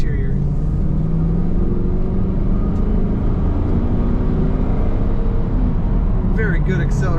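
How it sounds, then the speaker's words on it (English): A black 2002 Pontiac Firebird Trans Am NHRA Edition accelerating, a loud sustained engine rumble and drone heard from inside the car, steady and close, with a voice talking over it. "Very good acceleration from this car."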